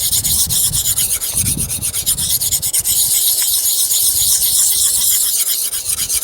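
A knife blade is rubbed back and forth against a sharpening surface in quick, continuous rasping strokes, close and fairly loud, with no talking.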